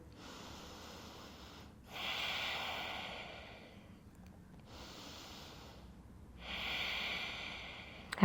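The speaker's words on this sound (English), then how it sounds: "3 breaths here." Slow, deep yoga breaths in a seated forward fold, two long airy exhales close to the microphone separated by quieter inhales, alone in a quiet room.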